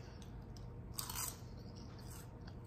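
A single brief crunchy bite into homemade kale chips made with olive oil and sea salt, heard close over a steady low background hum.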